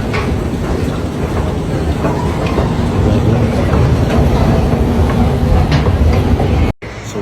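An MRT metro train on the Putrajaya line rumbles loudly at Tun Razak station in Kuala Lumpur, a dense steady clatter and roar that cuts off abruptly near the end.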